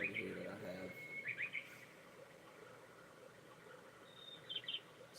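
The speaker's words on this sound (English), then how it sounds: "It's just like a river running. Some birds in the background chirping." Soft birdsong over a quiet, steady river-like hiss from a projector's nature sounds, with a few thin chirps near the start and again near the end while a voice talks.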